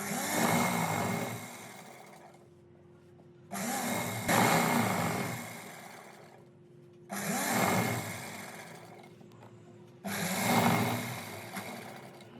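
A sewing machine stitches over elastic in four bursts of steady mechanical whirring, each lasting about two to three seconds with short pauses between, moderately loud and close with no talk.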